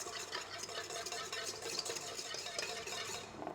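A ball whisk attachment stirs boiling water in a bowl for a genoise sponge, a continuous close scraping and swishing with a steady rhythm and no talking.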